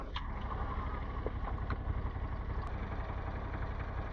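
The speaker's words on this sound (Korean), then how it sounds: "아이고, 시동 걸렸네요." A Ducati Scrambler 1100 Sport Pro engine idles steadily just after starting, a continuous low mechanical rumble that holds even and unbroken, heard alone without talk.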